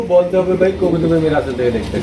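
Beauty pigeons kept for sale coo loudly and close by, with several low, throaty, pulsing calls overlapping in an unbroken run.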